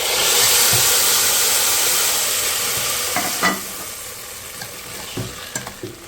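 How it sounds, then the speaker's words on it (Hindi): Loud, steady sizzling hiss of hot oil tempering poured into cooked lentils with spinach, slowly fading as it settles, with a few soft clinks and stirring sounds near the end. "ये वाला तड़का है जो मैं इसके अंदर डाल दूँगी"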